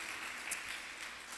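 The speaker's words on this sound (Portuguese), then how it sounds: "mais uma forte salva de palmas para o Senhor Jesus aí" A church congregation claps in a steady, dense wash of applause, moderately distant and even throughout, with no voices over it.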